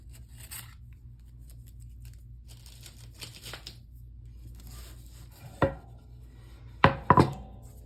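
An X-Acto knife trims hardened resin from the edge of a wooden handle. A few crisp, close cutting clicks and snips come near the end, after a quiet stretch with faint background hum.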